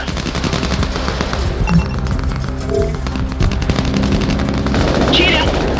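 Battlefield gunfire in the shooter Crossfire: Legion, with steady bursts of machine-gun and rifle shots crackling through a busy combat mix, fairly loud and continuous across the scene, with radio-style voices calling out over it.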